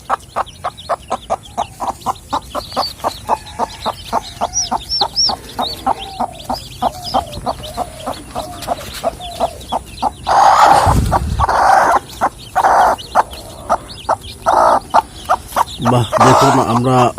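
Brooding hens cluck in a steady rhythmic series near the microphone while newly hatched chicks peep in thin high chirps, with a louder burst of fowl calls near the end.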